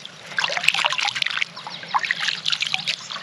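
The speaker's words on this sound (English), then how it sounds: "I'm going to be just washing my hands with you guys down here at the river." Hands splash and swish in icy cold river water, a continuous busy trickle and patter up close with no talking.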